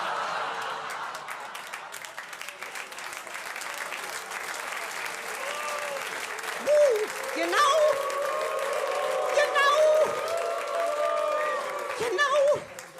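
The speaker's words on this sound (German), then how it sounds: "Und die Kerls sind wieder am lautesten Klatschen." An audience claps at a puppet theatre show at Cologne's Hänneschen Theater, a dense, steady wash of applause running throughout, with brief tonal voices or music rising above it in the second half.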